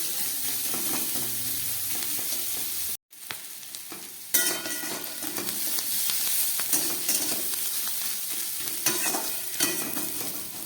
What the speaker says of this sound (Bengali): কাঁচা লঙ্কা কুচনো পেঁয়াজ আর ক্যাপসিকাম বাঁধাকপি আমার দিয়ে আমি ভেজে নিচ্ছি